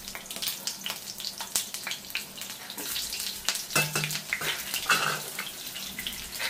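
Chunks of onion and a whole tomato fry in a pan, a continuous crackling sizzle with bursts of spitting and occasional stirring scrapes, close and moderately loud.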